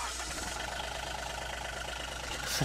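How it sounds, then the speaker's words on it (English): A John Deere Gator utility vehicle with a three-cylinder inline engine idles in Farming Simulator 2013, a steady mid-pitched rumble with a faint knocking texture running evenly throughout, without voices. "A Gator should hold 20 liters, and it has a 3-cylinder inline engine."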